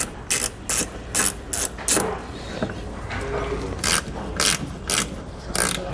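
A ratchet wrench spins out the two lower screws on a vehicle's front fascia, left and right of center, during a towing hitch install: bursts of rapid clicking, close and loud, separated by short pauses.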